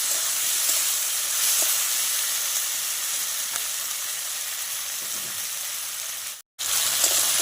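Potato, onion, tomato and green chilli fry in hot oil with a steady, close, dense sizzle that carries on alone without talk, broken by one brief cut near the end.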